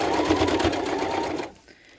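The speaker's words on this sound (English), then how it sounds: "I'm going to use red thread for sewing on my white lace" A sewing machine stitches red thread onto white lace in a steady, close, fast whirring run that stops abruptly near the end, leaving quiet room tone.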